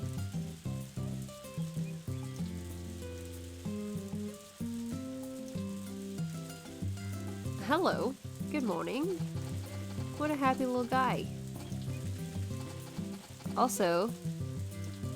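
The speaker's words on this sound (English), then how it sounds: "I hate when it rains in the morning because I never know when it's going to stop." Morning rain in the farming game Harvest Moon: A Wonderful Life, a steady soft patter running throughout beneath game music, with a person talking over it now and then.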